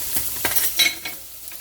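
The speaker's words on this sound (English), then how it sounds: "the magic to this, of course, is to saute that onion up a little bit." Sliced onions sautéing in a pan make a close, bright sizzle, broken by several stirring scrapes and clatters in quick succession.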